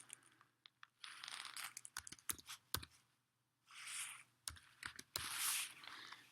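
Fingers type an account number on a computer keyboard in quick, uneven bursts of close, light plastic clicks, separated by short pauses.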